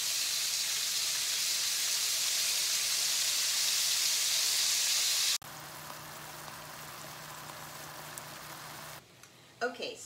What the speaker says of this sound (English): now I'm going to carefully add my beef in a single layer, so it'll take several batches to brown it